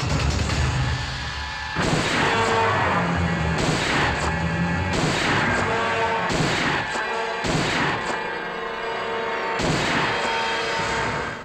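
Gunshots from an Italian-made six-shot gun in a Hindi-dubbed action movie, a series of about six heavy booming shots spaced roughly a second or two apart over a dense, loud score.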